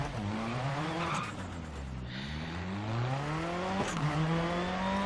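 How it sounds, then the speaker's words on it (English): Rally car crashing and spinning out in DiRT Rally, with engine revs rising and falling under sustained tire skid and gravel scrape, a sharp impact near the end, loud and close. "That is a nasty crash right there"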